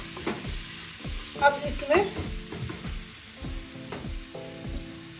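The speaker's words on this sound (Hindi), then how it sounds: "अच्छे से इसको फ्राई कर दीजिए कि अदरक लहसुन का स्मेल चला जाए" Ginger and garlic frying in a pan, a steady sizzle with repeated scraping and stirring strokes, close and moderately loud, with a brief voice speaking over it.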